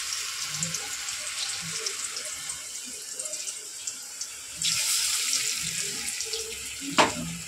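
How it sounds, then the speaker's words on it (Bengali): Hands are rinsed under a running kitchen tap, a steady moderate splash of water that swells louder near the end, with a brief clatter, no talk. "হাতটা ধুয়ে নিচ্ছি"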